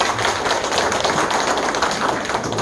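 Audience applause at a talk on butterflies and climate change, a steady dense clatter of hands clapping throughout, fairly loud and close, with no speech over it.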